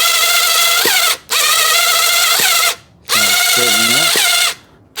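A power tool loosens a car headlight adjustment screw in three bursts of whirring, pitch-sliding whine, each about a second long and separated by short pauses, loud and close.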